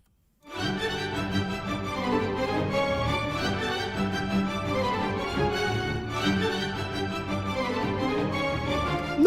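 Orchestral string section from a recreated Christmas score, a sustained, full legato passage swelling in after a brief silence and holding steady throughout, with no talking.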